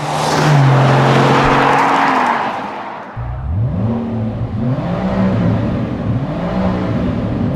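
A widebody Rolls-Royce Cullinan Black Badge engine, over 700 hp, roars close by, revving up through rising pitch, dipping briefly, then climbing again in repeated surges that bounce against the soft limiter.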